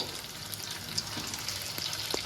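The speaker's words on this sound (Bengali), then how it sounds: "পনিরগুলোকে এবার আস্তে আস্তে তেল গরম হলে পনিরগুলোকে লাল করে ভেজে নেব।" Paneer pieces fry in hot oil, a soft steady sizzle with faint crackles, low and continuous with no talking.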